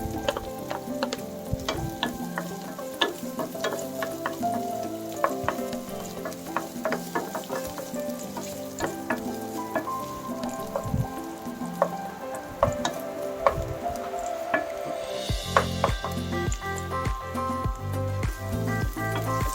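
Ginger frying in hot garlic oil in a pan, a steady close sizzle with scattered pops and spatters and the scrape of stirring, continuous throughout with a denser burst of crackling near the end; no one speaks.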